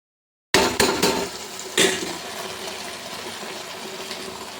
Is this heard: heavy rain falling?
no